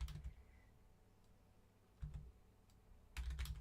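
Bursts of computer keyboard typing come in three short clusters, near and fairly quiet, with hushed pauses between them and no voices.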